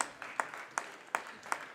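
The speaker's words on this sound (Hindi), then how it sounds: "जोरदार तालियां।" Sparse, evenly spaced hand claps from a kavi sammelan audience, a handful of crisp beats in steady rhythm, fairly quiet and close, with no talk over them.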